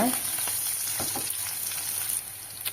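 Curry leaves and asafoetida roasting in a pan, a continuous close hiss of frying with a few faint scrapes of stirring, fairly quiet, with no talking.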